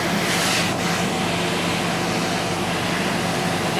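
A vacuum-assist laser hair removal handpiece draws suction against the skin of a knee, giving a steady, close broadband hiss with a faint whoosh near the start and no talking.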